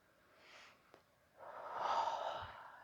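Deep, audible breathing during a slow yoga stretch flow: a soft inhale, then a longer, fuller breath swelling and fading, close and quiet with no talk.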